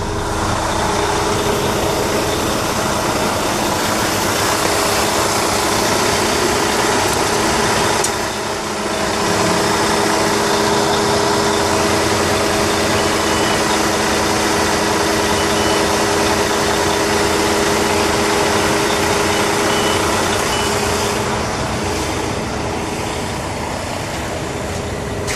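Freightliner 114SD roll-off truck idling with the PTO engaged as the hydraulic hoist raises, a loud continuous engine drone and hydraulic whine with a brief dip partway through, steady and close with no talking.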